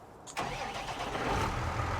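A tractor engine in the Farming Simulator 19 game starts with a quick crank, then settles into a steady, close mid-pitched idle that hums on alone.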